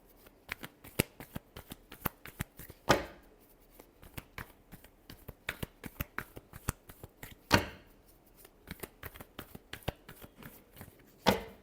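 A deck of tarot cards is shuffled by hand at close range, producing rapid crisp riffling flicks in an irregular rhythm, with three louder snaps where the deck is tapped or split.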